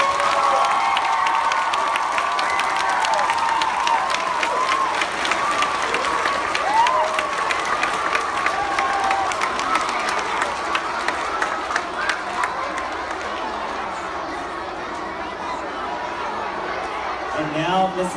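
A school crowd gives a long, sustained round of applause and cheering for the District Teacher of the Year, dense clapping with shouts and chatter from children and adults filling a large hall throughout.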